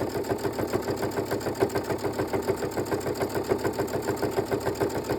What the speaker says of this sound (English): We're going to stitch right along the edge here